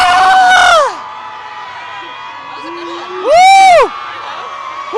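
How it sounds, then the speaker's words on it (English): A crowd of anti-Trump protesters lets out a big ritual scream in two loud rising-and-falling bursts of whooping and yelling, separated by a quieter stretch of background murmur. "they're about to do a big scream"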